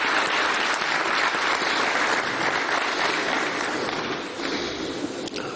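Continuous crowd applause at a red-carpet Cameroonian football awards evening, a broad wash of many hands clapping at an even level throughout, with no speech over it.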